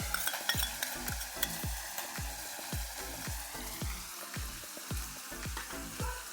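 Ginger garlic paste fries in a pan for a small-fish curry, a constant sizzle punctuated by a steady run of rhythmic spatula knocks and scrapes, close up with no talking.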